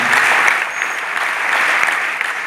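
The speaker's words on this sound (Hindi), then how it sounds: "एक बार जोरदार तालियां इनके लिए बजा दीजिए" Dense audience applause at an indoor talk, a steady burst of many hands clapping together that continues loud and even throughout, with no voices over it.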